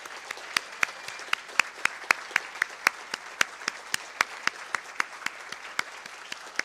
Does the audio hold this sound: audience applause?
yes